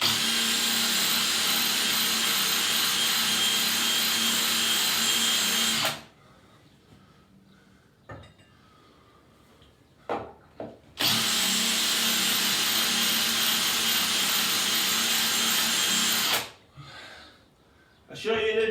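A power drill with a red-hot bit bores high up during a bathroom refit while kept wet, two loud sustained whining bursts of several seconds each separated by quiet gaps with faint handling knocks.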